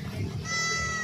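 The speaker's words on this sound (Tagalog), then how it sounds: "Ako, may kambing." A goat bleats once nearby, a short wavering cry over outdoor background noise.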